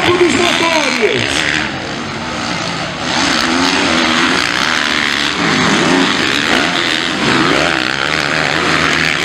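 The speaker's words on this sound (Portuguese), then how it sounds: "pra vocês ouvirem o barulho e o ronco dos motores" Racing engines roar during a race on a Brazilian track, loud and close, with engine tones rising and falling as cars sweep past and a commentator talking over them.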